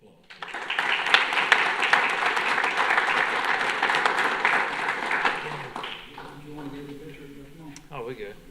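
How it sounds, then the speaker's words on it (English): Audience at a parish council meeting applauding steadily for about five seconds in a dense, sustained wash of clapping that thins out as voices begin talking near the end. "Let's give them all a round of applause."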